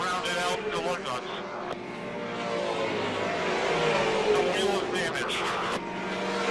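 TA2 race cars roar past one after another at Virginia International Raceway during the 2021 SpeedTour, engines rising and falling continuously under overlapping commentary voices.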